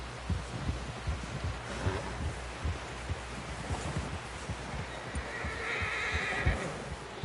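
A horse in Red Dead Redemption 2 whinnies amid hoof clops and rustling, the neighs fairly close over a busy game soundscape.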